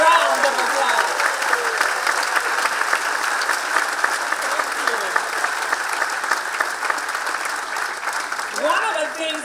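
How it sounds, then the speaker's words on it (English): A graduation audience claps for the mothers in the room, sustained dense applause filling the hall throughout, with a voice faintly audible within it. "Can we give them a round of applause?"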